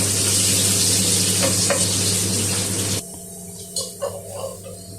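Sliced carrots sizzle in hot oil in a pan as they are stir-fried, a loud steady frying hiss that drops away abruptly partway through, leaving a few clinks and soft stirring sounds.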